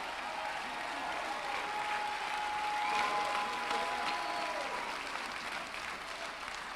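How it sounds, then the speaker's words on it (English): A large church audience claps continuously, a dense wash of applause that holds steady throughout with a faint voice underneath. "You better clap your hands."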